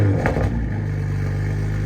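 Toyota Supra engine cold starting with its factory exhaust before a titanium exhaust swap, a brief crank burst settling into a steady, loud, deep idle drone close by.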